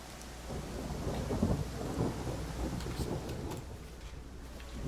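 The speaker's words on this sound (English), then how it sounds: "You're in the rain, as you can see here." Steady rain falls in a fantasy role-playing video game, with a low rumble of thunder rolling beneath it, a continuous quiet wash without speech.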